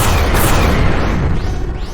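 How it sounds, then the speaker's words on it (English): Spaceship cannons fire a heavy, sustained blast that fills the whole moment, a loud rumbling roar with a few brief whooshing sweeps near the end and no voices. "The message was punctuated by another blast of the cannons."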